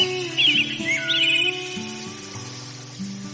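Cartoon birdsong chirps brightly in a forest scene, a few quick trills near the start over a bed of music that continues afterward.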